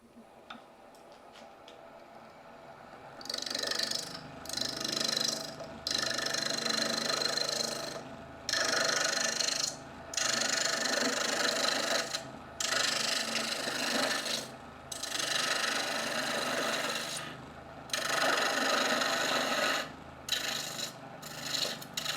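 A wood lathe turns a leaning Christmas tree while a tool cuts away wood to shape a branch, giving a loud, close rasping hiss in repeated passes broken by brief pauses.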